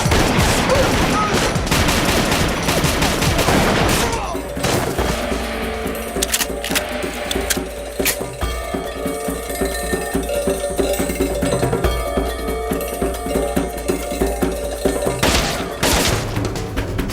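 Dense gunfire from a Hindi-dubbed Hollywood sniper action film: a sustained, loud barrage of rapid shots and machine-gun bursts, followed by sparser scattered shots and crashes against a rumbling soundtrack, with no talk.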